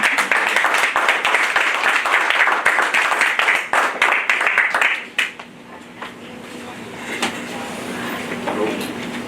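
A church congregation gives a round of applause, dense clapping that fills the first half and then cuts off abruptly, leaving a quiet hum of the hall and faint movement.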